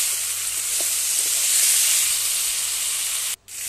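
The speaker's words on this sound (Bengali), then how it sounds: "এরপরে আমি দিয়ে দেব পটল আলু কেটে রাখা, দিয়ে এগুলোকে একটু ভালো করে কষিয়ে নেব।" Pointed gourd and potato pieces fry in hot spiced oil, a dense, steady sizzle close by that fills the whole stretch and cuts out sharply just before the end.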